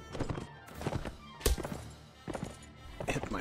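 A horse takes a hit in the Mount & Blade video game, a dull thunk with game clatter and hoof sounds, while a player talks excitedly over it.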